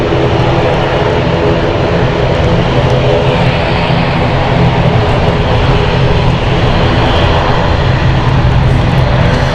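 An inbound airliner on the Zurich flight approaches London City Airport on a stormy night, its engines a loud, steady broadband roar held close and constant throughout, with no voices.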